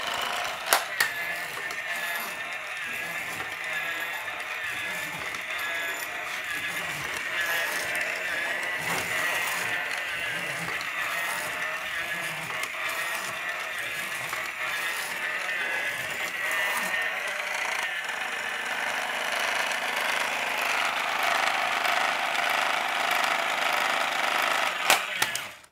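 An electronic REX Patrol toy robot gives off continuous buzzy, warbling electronic tones and mechanical whirring with clicking motor noise, steady and fairly faint throughout, without speech.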